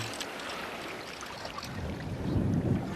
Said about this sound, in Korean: 파도도 치고 바람이 불어갖고 잘 안 보이네